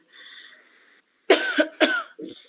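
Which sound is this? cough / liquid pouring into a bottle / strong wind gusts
cough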